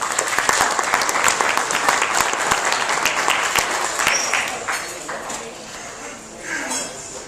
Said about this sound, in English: give a warm round of applause here to Jimmy